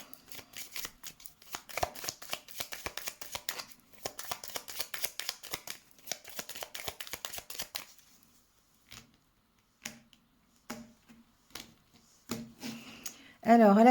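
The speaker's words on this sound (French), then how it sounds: "Allez, on va faire le tirage." Tarot cards being shuffled for a reading: a dense run of quick riffling and flicking for about eight seconds, then a few separate soft taps and slides before a voice starts at the very end.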